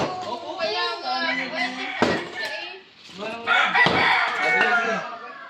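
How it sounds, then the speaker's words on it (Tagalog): Chickens cluck and squawk in a busy, continuous chorus, with roosters crowing loudly over the flock and a couple of sharp knocks partway through. "Nagkakagulong manok."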